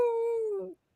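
A small white dog gives a single clear, mid-pitched howl that slowly falls in pitch and breaks into a short whimper before it stops. The sound is close and heard alone.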